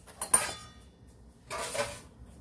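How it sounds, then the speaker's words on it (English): A spoon stirs graham cracker crumbs with sugar in a bowl, giving two short bursts of close scraping and clinking separated by a brief pause. "I'm going to stir this together. Graham cracker crumbs and sugar."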